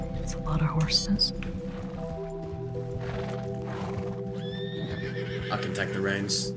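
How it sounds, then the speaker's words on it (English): Horses neigh and whinny in a Wild West roleplay video game, several drawn-out calls over a layered droning hum, with faint shuffling noises throughout. "It's a lot of horses."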